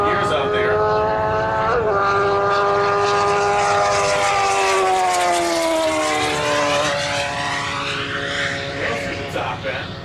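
A nitrous-fed turbocharged Hayabusa motorcycle at the ECTA Ohio Mile land-speed event screams loudly and continuously, its engine pitch climbing and dropping through the gear changes, with some voices mixed underneath.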